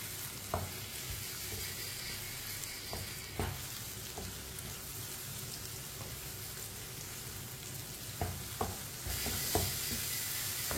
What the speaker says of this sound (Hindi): अंडे डालेंगे, अच्छी तरह मिक्स कर लेंगे